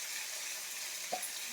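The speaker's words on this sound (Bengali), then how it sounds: "তেল গরম হয়ে গেছে, খুব গরম হয়ে গেছে। চারটে চারটে করে ভাজি।" Fish pieces fry in very hot oil in a kadai, a steady hissing sizzle close by with one brief clink partway through, and no talking.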